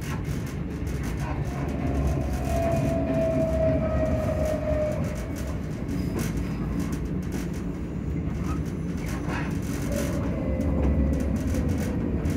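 A passenger train runs along the line toward Coatbridge Sunnyside. It gives a steady, loud rumble inside the carriage with faint whining tones that rise and fade, and no voices.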